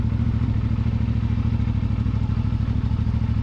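A CFMoto 450MT motorcycle engine idles with the throttle fully closed, giving a steady, close, low rhythmic throb with a slight clattery edge. No one speaks over it.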